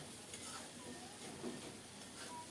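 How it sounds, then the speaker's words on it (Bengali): Eggplant, potato and tomato being stirred and fried in rohu fish oil, a steady soft sizzle with faint scraping of the spoon, close and continuous with no talk. "এক ফোঁটা জলও দিই নাই কিছুক্ষণ নেড়ে চেড়ে খুব সুন্দর মতো ভেজে নিলাম"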